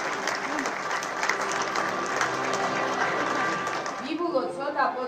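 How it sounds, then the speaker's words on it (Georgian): A studio audience on a live morning television show applauds steadily after medal winners are announced, the clapping sustained and fairly loud, with a voice speaking over the tail end. "ვიბულოცოთ აპლოდისმენტებით გავამხნევოთ"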